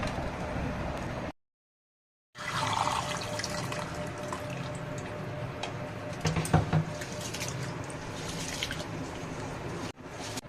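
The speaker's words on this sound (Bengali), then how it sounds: "চাল ঢেলে নিচ্ছি আর এই যে ডাল দু রকমের ঢেলে নিলাম। এগুলো এখন ধুয়ে নিয়ে আসছি।" Rice and two kinds of lentils being rinsed in water for khichuri: steady splashing and trickling with drips, near and moderately loud, interrupted by a brief silent gap.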